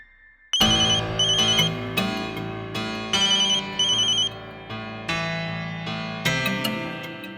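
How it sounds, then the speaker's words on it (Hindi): A mobile phone ringtone plays loudly and alone, sounding as a bright repeating melodic tone pattern in several phrases after a brief quiet start. "तुम्हारा फोन बज रहा है"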